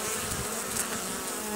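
Bees at a hive under attack from flying beetles give off a steady, dense buzzing drone, close and unbroken, with no talk.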